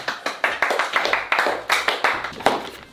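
A small group claps together indoors after finishing a task, producing a brisk, fairly close run of distinct claps in an uneven rhythm that fades slightly toward the end.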